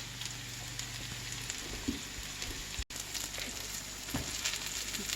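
Chicken and bacon squash patties fry in a pan with a steady, even sizzle and faint crackle, holding at a moderate level with a momentary dropout midway; no voices.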